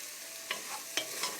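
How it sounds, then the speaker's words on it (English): Diced garden vegetables turning translucent in a pan give off a soft steady sizzle, broken by a few quick scraping stirs of a utensil. "so the vegetables are cooking and they're getting a little translucent."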